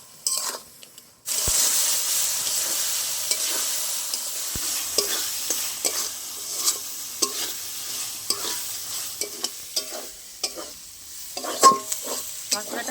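Ground cumin and mustard paste frying in a pan for a fish curry, a steady sizzle broken by frequent sharp scrapes and clicks of a stirring spoon, close and alone with no voices.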